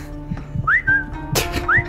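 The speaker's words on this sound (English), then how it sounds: "Whistle." Two short rising whistles in the video game Alekhine's Gun, clear and near, separated by a burst of noise, over a low background hum and soft thuds.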